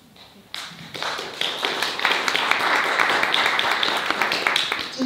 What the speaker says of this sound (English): applause is fine at this point